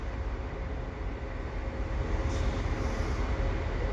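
A CSX westbound freight train with CN locomotives creeps slowly past in low snow at the Dorval ramps, giving a steady, fairly loud rumble that swells slightly toward the end.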